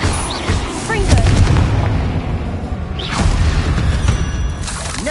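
A Confringo fire spell explodes in Hogwarts Legacy with loud booming blasts and crackling debris. A voice can be heard over the dense game noise.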